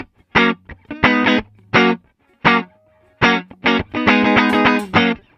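A clean electric guitar tone through the S-Gear 3 amp sim's American Clean preset, without reverb, plays short chords and single notes in separate bursts, dry and fairly close, with brief silences between phrases.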